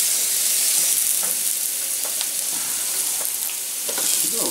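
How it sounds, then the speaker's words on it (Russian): Onion sizzling in a frying pan while fish is being prepared, a steady hiss of frying fat with small crackles and pops, close and even throughout, no talking. "Сейчас там будет немножко обжариваться лук."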